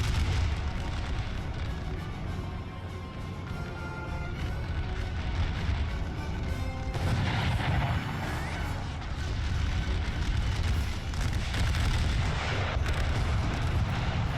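Dense, continuous artillery barrages rumble through a North & South Civil War battle game, booming low and heavy with a churning wash of distant cannon fire and crackle, loud throughout with no clear pauses.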